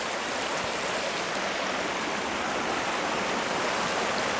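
A river near Idefjorden in winter, water rushing in a continuous dense broadband roar, steady and close with no talk.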